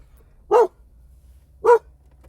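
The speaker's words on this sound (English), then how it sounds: "Puppies barking at the puppies outside the car." Two sharp puppy barks from inside a car, well separated, with a quiet low rumble underneath between them.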